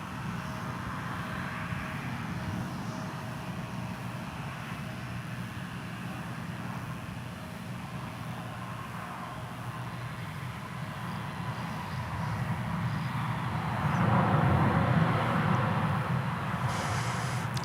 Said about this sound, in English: We've got a Delta flight coming in.